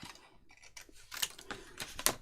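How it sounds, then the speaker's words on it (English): Scissors snip through paper during a card-making craft project, giving a quick run of faint, crisp cuts that build to a few sharper snips near the end. "Have you noticed I'm using scissors?"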